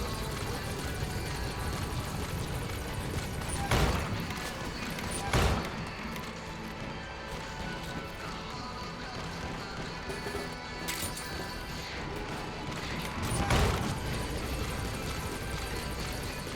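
Pequod support helicopter from Metal Gear Solid V: The Phantom Pain arriving at a landing zone, a steady loud rotor drone running throughout with a few sharp bangs and thuds cutting through.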